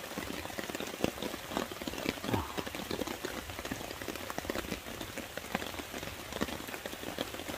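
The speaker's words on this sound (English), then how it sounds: "You can hear the rain." Rain falls at night on a hammock camp during a storm, a constant close hiss with irregular sharper drops pattering on a tarp or nearby surfaces, steady and unbroken with no voices.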